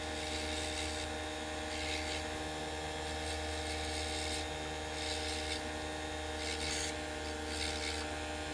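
A steady electric grinder whirs as Indonesian opal wood is ground and polished in circular strokes, with a constant motor hum and brief rasping scrapes of stone against the wheel.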